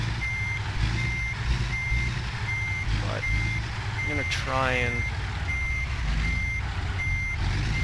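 Regular reversing beeps from a truck maneuvering in a tight yard in American Truck Simulator sound over engine rumble while someone talks briefly.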